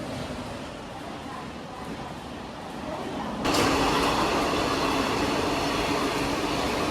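A train passing at a railway station platform where other trains have gone by, a steady rumble that jumps suddenly to a loud, broad rushing roar partway through and stays close and sustained.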